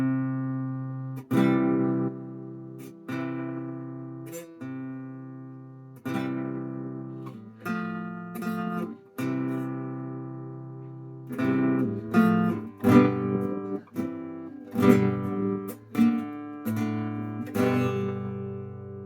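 Kalimba playing alternative chords alongside a melody, its plucked metal tines ringing with bell-like decay; soft, close, steady strikes that grow busier and denser toward the end.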